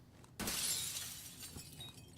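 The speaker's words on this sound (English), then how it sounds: "Well, as the glass breaks," A pane of glass shatters in a Call of Duty match, one sharp bright crash followed by tinkling debris that fades over about a second and a half.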